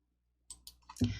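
A few sharp clicks of a computer mouse, then a thicker clatter at the end, close and fairly quiet, with no speech.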